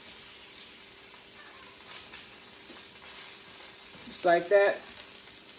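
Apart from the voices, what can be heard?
food frying in olive oil in a pan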